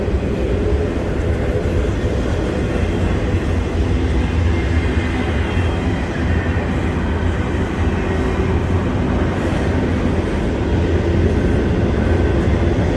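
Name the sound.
train passing on railroad tracks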